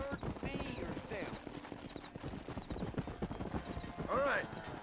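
Horse hooves clip-clop in a steady rhythm beneath ongoing talk, with a brief whinny near the end, in the video game Red Dead Redemption.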